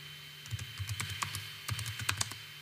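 Typing on a computer keyboard, a close burst of irregular light clicks in two quick runs with a short pause between them, quiet and with no talk.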